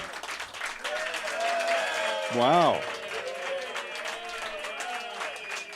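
Live audience applause fills a talk radio broadcast staged before a crowd, a steady wash of clapping throughout with one voice briefly exclaiming over it midway.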